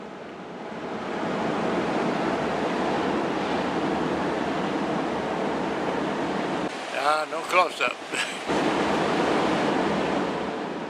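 Ocean surf rolling in on windy Folly Beach, a constant loud roar of waves and gusting wind buffeting the microphone, with a short stretch of a voice speaking over it.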